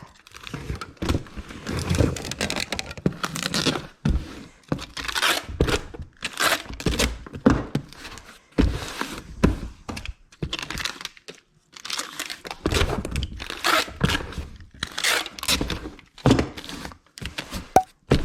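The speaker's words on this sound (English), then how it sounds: "I'm just going to go ahead and get this taped up." Packing tape is pulled and pressed onto a cardboard shipping box holding a purse, giving repeated loud ripping screeches and crinkling bursts separated by short pauses and thumps.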